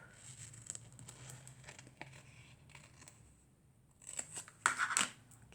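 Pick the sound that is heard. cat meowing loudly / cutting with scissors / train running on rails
cutting with scissors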